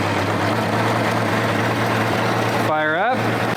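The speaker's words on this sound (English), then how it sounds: "Now we turn the engine on, key on, ignition on," A six-cylinder motorcycle being carb-synced sits with a steady low hum, then a brief whining sweep rises and falls near the end as the engine is fired up.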